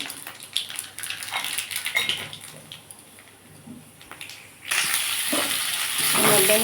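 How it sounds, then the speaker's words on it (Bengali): Black cumin (nigella seeds) and chilli tempering in hot oil in which capsicum and snake gourd were just fried, for a mixed-vegetable curry. A soft crackle and light clatter give way to a loud, steady hissing sizzle that holds to the end. "এই তেলের মধ্যে আমি একটু কালো জিরে আর লঙ্কা ফোড়ন দিলাম"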